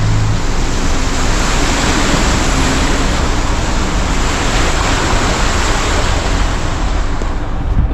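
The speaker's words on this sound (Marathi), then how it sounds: "ही गाडी आली आता त्याची पाणी उडवत चालली." A vehicle pushes through floodwater on a street, throwing up spray in a loud, unbroken rushing wash of water that stays close and constant throughout.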